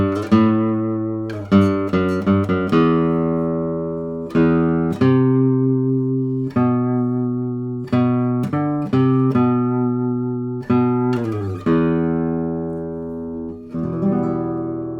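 A 2013 Eric Sahlin classical guitar is played with repeated plucked notes on its sixth string. The notes ring clear and resonant, each decaying before the next attack. There is no talking.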